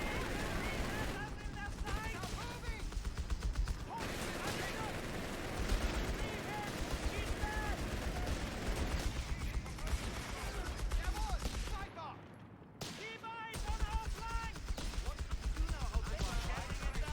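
Sniper rifle shots and other gunfire crackle through a Company of Heroes 3 multiplayer battle, dense and continuous with a brief lull near the end, under a man's speech.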